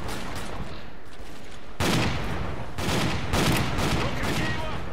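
Rapid automatic gunfire from a firefight with bandits in the video game S.T.A.L.K.E.R.: Clear Sky: a quieter stretch, then loud sustained bursts of shooting from about two seconds on, with no talking.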